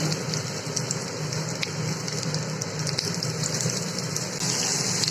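Chopped potatoes dropped into a hot frying pan while cooking ghugni, giving a dense, steady sizzle and crackle like rain on a surface, loud and close with no talking.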